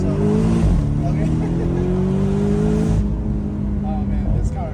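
Porsche 718 Boxster GTS engine driven hard through a corner, rising in pitch as it revs, then dropping and climbing again, loud and close with a person talking over it.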